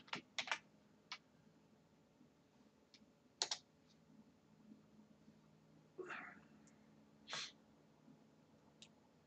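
Scattered keystrokes on a computer keyboard while entering a value into a spreadsheet-style design table, a few sharp taps spread unevenly across the stretch, faint and close, with no speech.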